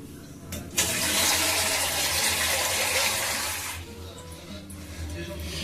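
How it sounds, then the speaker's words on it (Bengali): Near-boiling water, thinned with some plain water, is poured in a loud, steady rushing stream for a few seconds, then tapers off into quieter sloshing as it is mixed. "একটু এমনি জল মিশিয়ে নেব।"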